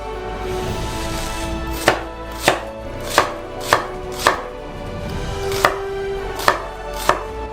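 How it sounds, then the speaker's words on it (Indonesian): A knife chops and dices onion on a cutting board, eight sharp evenly spaced knocks over a low steady background hum, close and distinct, with no talking. "Iris dan potong dadu bawangnya."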